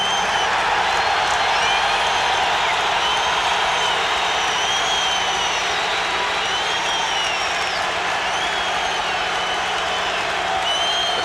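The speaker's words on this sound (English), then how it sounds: "Crowd chanting Tony, Tony" Chicago Blackhawks arena crowd at a jersey retirement ceremony for Tony Esposito, a dense, continuous roar of cheering, applause and chanting of his name, loud and sustained from all sides.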